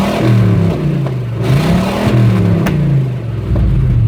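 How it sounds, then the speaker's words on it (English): V8-style rumble of a GMT 400 pickup being revved repeatedly, loud and close, pitch rising and falling in a couple of swells before settling back to idle. "let me just rev it up here a couple more times here"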